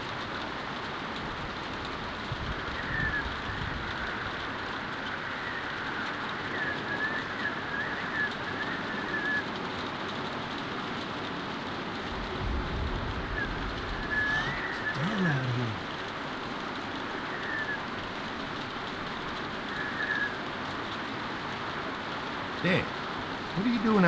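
Steady rain falls outside a barn in The Walking Dead video game, a soft continuous hiss with a few faint bird calls and brief low thumps, with speech present at times.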